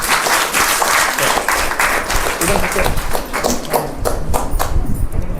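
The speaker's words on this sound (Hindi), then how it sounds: "एक बार तालियों से स्वागत" Applause welcoming a guest, a loud, close wash of many hands clapping that stays dense throughout, with voices mixed in underneath.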